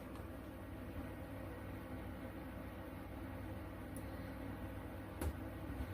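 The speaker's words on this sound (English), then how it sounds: "If you can hear noise in the background, I've got the fan on." Inside a caravan on a stuffy day, an electric fan runs with a steady, even whir that stays constant throughout, with a couple of faint clicks near the end.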